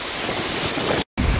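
Crew hose down the deck of the cruise ship Vision of the Seas, a loud, continuous rushing spray of water close by, briefly cut to silence before resuming.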